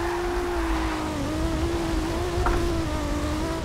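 A car engine in Forza Horizon 2 holds a steady high drone under drifting, with slight pitch wobble and a faint tire squeal, loud and close throughout.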